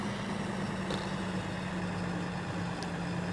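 A tractor engine idles in Farming Simulator 2013, a steady low drone with a constant hum that holds evenly throughout, alone with no talk.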